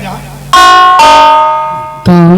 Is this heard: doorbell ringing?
yes